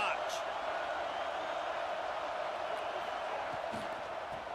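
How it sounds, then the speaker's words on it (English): Steady roar of a stadium crowd cheering in a college football video game, a broad continuous wall of sound that holds level throughout, with no talk in the clip. "this crowd is turning it up a notch"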